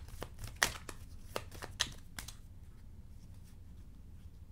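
Tarot cards being shuffled: a handful of crisp papery flicks and riffles in the first half, close and fairly soft, fading into quiet room tone.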